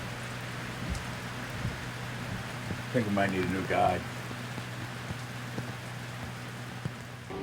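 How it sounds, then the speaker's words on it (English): Heavy rain pours down outdoors during a moose hunt in Maine, a dense steady hiss throughout, with someone speaking briefly partway through. "Pouring down raining."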